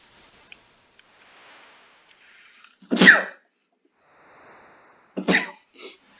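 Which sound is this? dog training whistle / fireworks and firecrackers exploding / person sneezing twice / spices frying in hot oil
person sneezing twice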